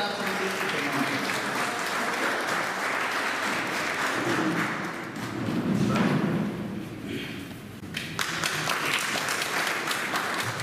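An audience claps steadily and loudly at a BJP office event in Mandla marking Atal Bihari Vajpayee's 100th birth anniversary. The dense applause runs throughout, with a few louder thumps.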